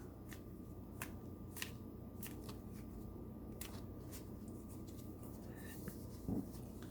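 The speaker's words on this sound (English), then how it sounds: "let's have a significator card from the Rider-Waite-Smith deck" Quiet shuffling of a Rider-Waite-Smith tarot deck, soft scattered card flicks and slides over a steady low hum, faint and close, with no clear talking.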